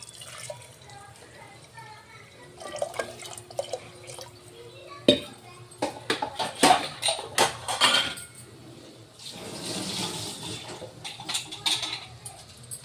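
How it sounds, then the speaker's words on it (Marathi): Water poured into a pressure cooker over sautéed masala khichdi ingredients, heard as uneven splashing and dribbling bursts with a sustained pouring stretch near the end, close by and fairly quiet. "शिजण्यापुरतं पाणी टाकायचं आहे यामध्ये।"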